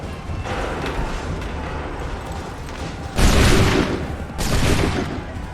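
Musket volleys crack out in Assassin's Creed 3 Remastered on PS5, two loud massed bursts about a second apart standing out over a steady rumbling battlefield din.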